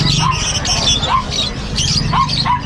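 Lovebirds, wild-type and personata colour varieties, chirp in short repeated calls at a bird seller's stall, fairly close over a steady background hum, with a voice faintly present.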